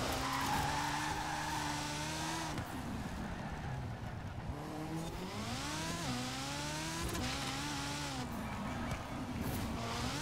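A LEGO Ferrari F40 driven in Forza Horizon 4 racing game, engine note rising and falling through gear changes with whining revs and some tire noise, loud and continuous throughout.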